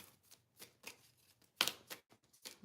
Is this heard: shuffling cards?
yes